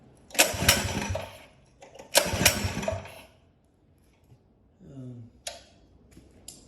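A Predator 212 small engine fitted with a Mikuni carburetor, choke on, failing to start: two loud, close bursts of pull-start cranking that sputter and die out, followed by quieter clicks and rattles.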